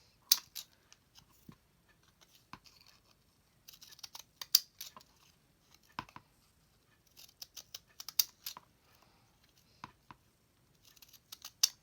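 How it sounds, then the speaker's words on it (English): Small decal scissors snip through paper in quiet, irregular clusters of crisp cuts, close by, separated by short pauses of near silence. "I'm just going to cut these out with my decal scissors here."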